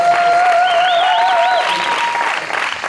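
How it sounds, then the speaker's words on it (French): Crowd at an international padel tournament trophy ceremony applauds a player, steady close clapping with a tonal whistle or squeal gliding over it. "Je vous demande d'applaudir Thiago"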